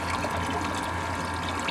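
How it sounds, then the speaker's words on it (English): Water being pumped through a Noritz tankless water heater during descaling makes a steady, continuous rushing and trickling flow with a low motor hum beneath it, close and unbroken. "So we're pumping away here."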